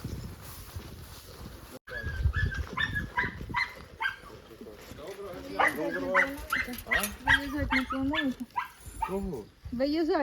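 A dog barks and yips repeatedly at close range in Novopavlivka, Ukraine, in quick bursts with short whines, while people talk over it.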